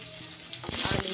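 Potato, sweet potato and green banana pieces dropped into hot oil, where bori were just fried; a quiet hum jumps into a loud, close sizzle and crackle halfway through.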